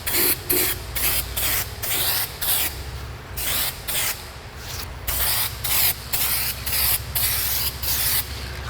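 Aerosol spray paint laid as a light coat on Ford Fox Body frame connectors, in about a dozen even bursts of loud close hiss separated by short pauses.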